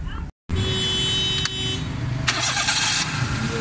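A repaired Daihatsu Cuore automatic, which had pick-up, misfiring and fuel faults, starts and runs, its engine heard up close as a steady broadband rumble with a brief cutout near the start and a few rising surges.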